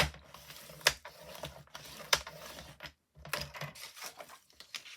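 Scissors or a cutter slicing a six-by-six-inch acetate sheet for a floating Christmas card, giving a few crisp, close snips and clicks separated by short pauses.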